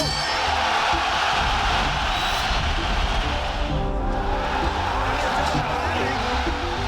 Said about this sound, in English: This crowd is trying to swarm the ring here.